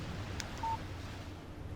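A short electronic text message alert chimes once on a phone in the video game Alan Wake, a brief clean tone over a faint low ambient hum.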